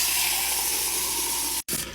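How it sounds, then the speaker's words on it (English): Water pours steadily from a measuring cup into a silicone pop-it fidget toy, a continuous close splashing hiss that cuts off abruptly for a moment near the end before resuming briefly. "let's fill it up with water"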